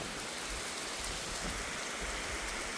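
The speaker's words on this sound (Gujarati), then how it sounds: "જો દોસ્તો ખતરનાક વરસાદ પડી રહ્યો છે અહીંયા." Heavy rain pours down steadily across a village, a dense, even wash of falling water with no voices.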